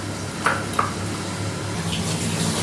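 Water is drained off vegetables with a soft, continuous watery rush and a couple of small splashes near the start.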